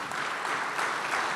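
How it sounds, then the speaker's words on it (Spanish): A church congregation applauds during a worship service, a dense, steady wash of many hands clapping at moderate loudness, continuous without pause. "dele un aplauso fuerte, fuerte"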